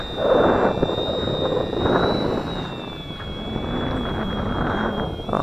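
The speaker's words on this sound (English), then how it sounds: "Coming in for a vertical landing." An XK DHC-2 A600 RC model airplane comes in for a vertical landing, its electric motor giving a steady high whine with a broad rushing wash that holds fairly loud and even throughout.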